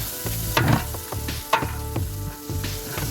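Dry chillies, crushed chillies and onions fry in mustard oil for a paneer curry. The sizzling is close and steady, with a few louder scrapes and stirs as the pan is worked. No one speaks.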